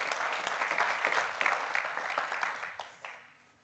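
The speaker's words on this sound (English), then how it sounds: "let's give a warm applause to Martijn." Audience applause after a talk at a power grid modelling meetup, a steady wash of many hands clapping that thins and fades out toward the end.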